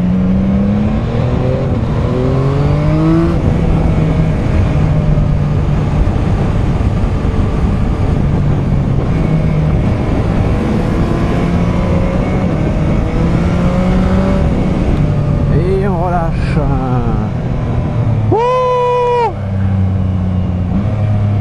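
A 2021 Yamaha MT-09 roadster accelerates hard on open roads, its engine note climbing through repeated revving pulls and gear changes, loud and continuous throughout, with a rider briefly talking over it near the end.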